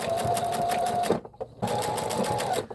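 A sewing machine stitches through thick felt for a mini Christmas stocking, running in two steady buzzing bursts with a brief pause between them, close and loud.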